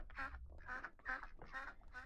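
Migrating geese flying in V formation in the Roller Coaster Tycoon 3 video game honk in a run of five or so loud, evenly spaced calls, close and clear with no talk over them.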